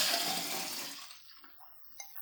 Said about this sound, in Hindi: अब हमने छान कर दोबारा जग में डाल देंगे।